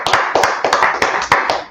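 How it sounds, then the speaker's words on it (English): Congregation clapping during a church Bible class, loud rhythmic claps in a steady beat at close range, several hands striking roughly in unison, with no talking. "let's clap it up for the Lord."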